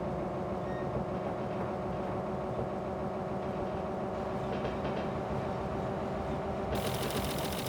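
A Sacramento Northern steeplecab electric locomotive runs steadily in Train Simulator, with a continuous low mechanical rumble and hum, joined near the end by a brighter hissing burst.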